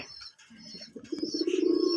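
Desi colouring gola pigeons on a breeding farm coo in a low, steady rolling drone that builds and grows louder toward the end, with faint chirps and a brief wing flutter mixed in.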